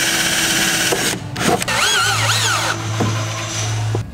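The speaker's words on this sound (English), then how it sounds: "So now I just need to drill them out." A power drill whirs in short bursts, then settles into a steady, close grinding buzz as it bores speaker screw holes through the metal of a Toyota Hilux Surf car door, with brief pauses between runs.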